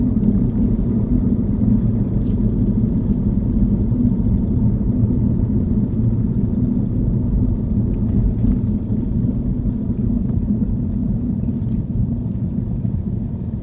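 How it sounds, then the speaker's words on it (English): A car engine held hard in first gear during a mock driving test, a loud, steady, low droning roar heard from inside the cabin without letting up. "Poor engine screaming like mad."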